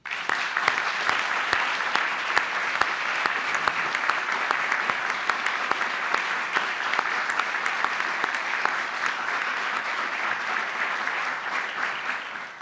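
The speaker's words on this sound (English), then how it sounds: "Again, a round of applause." Sustained audience applause at a health awards ceremony, a dense, even wash of clapping lasting about twelve seconds with no talking.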